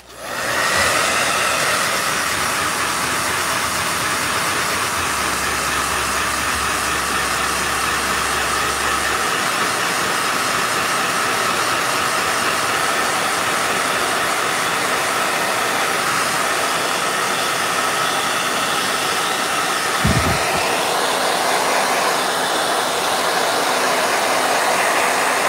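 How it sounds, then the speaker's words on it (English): A blow dryer runs loud and steady for the whole stretch, one unbroken airy roar with a brief thump near the end and no voices. "All right. Blow dryer."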